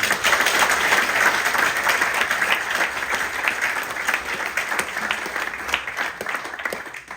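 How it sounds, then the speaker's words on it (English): A room full of people at a heritage group book launch gives a sustained round of applause, loud and dense at first with crisp individual claps, easing slightly toward the end. "So I want just to give a round of applause for them."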